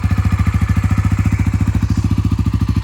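A motorcycle engine runs steadily at a fast, even idle on a high mountain route between Keylong and Baralacha La pass. The thumping pulse is loud and close, with no voices.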